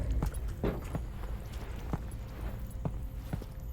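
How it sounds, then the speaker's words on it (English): Footsteps in Half-Life: Alyx, a series of soft, dull thuds at an uneven walking pace over muffled low rumble, fairly close and moderately loud. "I keep hearing footsteps"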